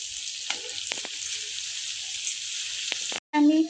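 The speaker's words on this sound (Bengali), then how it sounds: "সেই চালটা দিয়ে অল্প ভাজবো, যেরকম আমরা পোলাওতে ভাজি" Thick Bengali bora rice coated in turmeric and ghee sizzles and fries steadily in a pan with a bright, even hiss, then a brief stir or clatter near the end.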